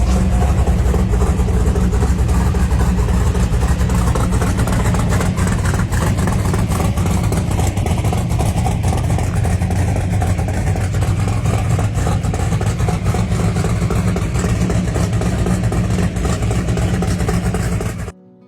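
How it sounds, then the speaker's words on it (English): A 1968 Pontiac Firebird coupe with a built 427 engine roars continuously, a loud, dense engine sound with a rough, pulsing low end that holds for the whole stretch before cutting off abruptly at the end. "Under the hood roars a built 427 engine pushing an estimated 600 to 700 horsepower"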